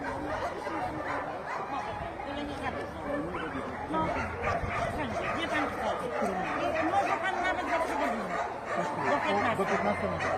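Many dogs at an animal shelter bark and yip over one another in a continuous, dense din that never lets up.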